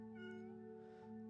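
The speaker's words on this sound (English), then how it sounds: "Is that a cat?" A cat meows in a video game, a soft drawn-out mew over a steady low electronic hum and game background tones, with no one talking.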